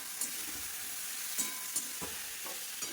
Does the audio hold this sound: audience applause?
no